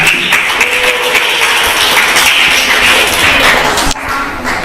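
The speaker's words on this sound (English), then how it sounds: "Let's give one more applause for the evaluator" Loud, sustained applause from an audience at a school speaking summit, dense clapping filling the room for several seconds before dropping slightly near the end.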